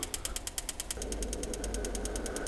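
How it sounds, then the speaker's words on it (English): A Patriot 55 gas burner with electronic ignition is lit after its ferrule is replaced: a rapid, steady ticking of the igniter, then a low, rumbling whoosh of flame comes on and holds as the ticking continues. "we're going to go ahead and light the burner"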